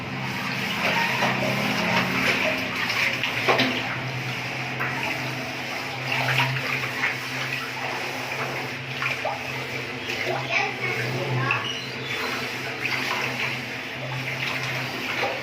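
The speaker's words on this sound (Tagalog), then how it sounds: "yung paglilinis ng drum" Water splashes and gushes while a water station drum is washed out, a continuous running, sloshing sound with irregular bursts, and a person talks over it at times.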